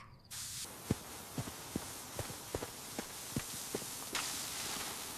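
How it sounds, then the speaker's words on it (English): Farm sprinklers spray water near a sheep barn with a steady, wide hiss, while footsteps thud at an uneven running pace close by and the spray swells louder near the end. "It's the sprinklers!"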